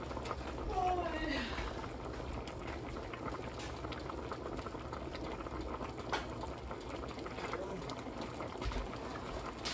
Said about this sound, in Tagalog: kumulo na ang ating pangalawang tubig dating